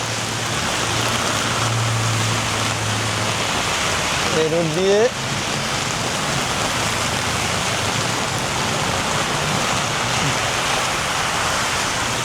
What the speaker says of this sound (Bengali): অনেক বৃষ্টি হচ্ছে, মাশাআল্লাহ মাশাআল্লাহ।